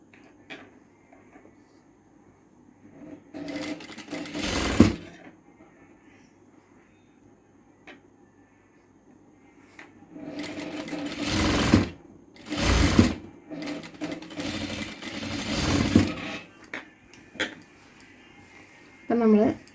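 A domestic sewing machine stitches the folded sleeve round of a kid's low-waist frock in several bursts, short ones at first and then longer runs. Quiet pauses with faint handling of the fabric fall between the bursts.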